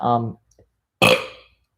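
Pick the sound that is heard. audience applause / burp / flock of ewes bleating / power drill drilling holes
burp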